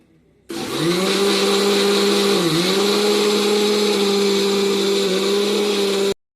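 A kitchen mixer churns cream with chilled water into butter, giving a loud, steady motor whine that starts abruptly, holds a constant pitch with one brief dip, then cuts off.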